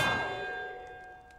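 A bell struck during a bell puzzle in the Hogwarts Legacy video game, one clear metallic clang that rings on and slowly fades, heard alone.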